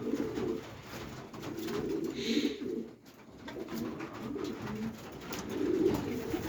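Young racing pigeons coo repeatedly at close range, low throaty calls rolling one after another over a steady background hum.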